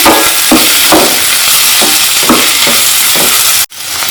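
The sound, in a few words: stirring okra frying in pan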